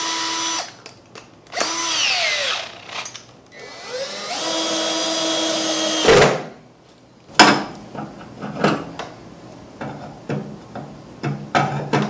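A power drill bores holes through wooden boards for a mobile tool base, several loud whirring bursts that rise and stop with pauses between them, close up in a workshop with no talking.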